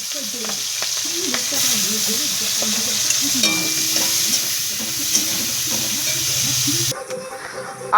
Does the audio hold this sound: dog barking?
no